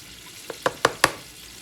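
Chicken frying in a pan on a stovetop at a steady medium heat, a soft continuous sizzle under four quick, close knocks that grow louder, like a utensil moving the pieces.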